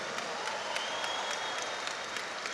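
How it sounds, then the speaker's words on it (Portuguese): Audience applause at a church gathering in Brazil with a visiting bishop, a steady, dense patter of many hands clapping throughout at moderate level, no voices over it. "Forte aplauso para o pastor Felipe Parente"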